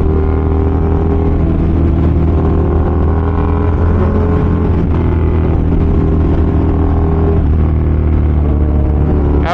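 A Honda XR motorcycle with its exhaust runs close by, a loud, steady, throbbing idle with a strong low rumble and a slight rise near the middle, continuous throughout.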